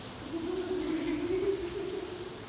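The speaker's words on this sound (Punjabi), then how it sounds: "ਵੀ ਮੀਂਹ ਪੈ ਰਿਹਾ" Rain falls steadily outside a home in the morning, a continuous even hiss at moderate level for the whole stretch, with a low steady hum running underneath and no voices.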